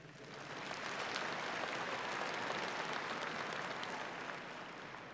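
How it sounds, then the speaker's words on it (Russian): Crowd applause at a Belarusian harvest festival celebration in Vitebsk, a broad, even wash of many hands clapping that swells in and holds steady, somewhat distant and faint. "всех приветствуем громкими аплодисментами"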